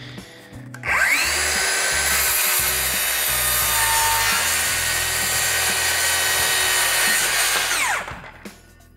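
DeWalt DCS570 cordless brushless circular saw cutting through wood: a loud, sustained high whine for about seven seconds as the blade bites, spinning up at the start and winding down at the end.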